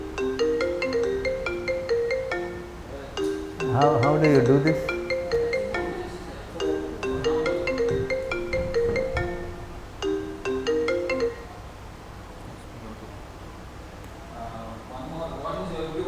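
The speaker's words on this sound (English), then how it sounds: "Some number is coming here from your phone." An iPhone ringtone from an incoming call repeats its melodic pattern several times, moderately loud in a large room, as someone speaks over it before the ringing stops.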